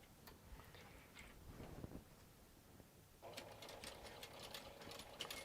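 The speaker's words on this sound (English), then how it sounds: "So I'm going to stitch all the way across the bottom of the bag using a 1/2 inch seam allowance" A sewing machine stitches straight across the bottom of a fabric crossbody bag. The rapid ticking of the needle is quiet and close, and it speeds up and grows denser in the second half.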